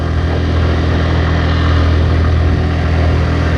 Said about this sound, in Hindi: बाइक बहुत ही जोर जोर से आवाज़ कर रहा है